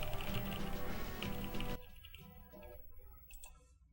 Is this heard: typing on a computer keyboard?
yes